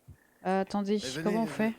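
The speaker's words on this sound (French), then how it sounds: "Pourquoi il y a des grenouilles?" Frogs croaking in Minecraft, a few loud close croaks in quick succession, heard under overlapping chatter from several people speaking French.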